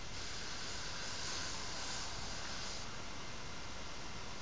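Hairspray sprays from an aerosol can in one continuous, even hiss lasting several seconds, close and moderately soft.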